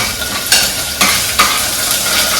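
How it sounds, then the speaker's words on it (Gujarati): Ginger drops into a hot tempering of oil and spices in a pan, a steady close sizzle punctuated by three sharp bursts of crackling as pieces hit the oil and get stirred. "થોડુંક વઘાર આવી જાય વ્યવસ્થિત ત્યારબાદ આમાં આદું નાખવાનું"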